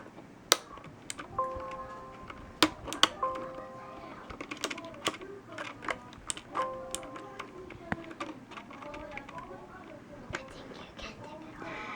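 Faint, quiet taps and clicks from a Pictek TKL gaming keyboard and its spacebar come in irregular bursts, with soft speech and background hum beneath them.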